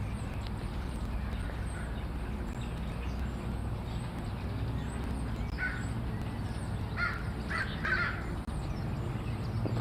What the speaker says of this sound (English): Oh shit, the crows.